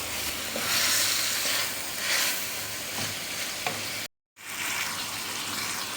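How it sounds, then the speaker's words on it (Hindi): Chicken pieces for a green chicken curry fry in a pan over a high flame while a spoon stirs them, making a steady, loud, close sizzle with a brief dropout near the end. "और चम्मच भी हम साथ साथ हिलाते रहेंगे और हाई फ्लेम पर हमने इसको फ्राई करना है"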